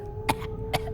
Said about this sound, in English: the scribe begins coughing violently